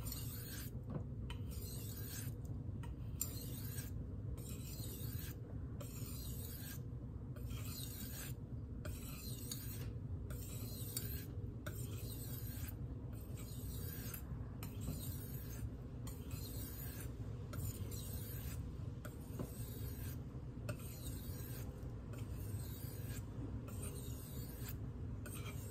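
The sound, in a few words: chef's knife being sharpened on Arkansas stones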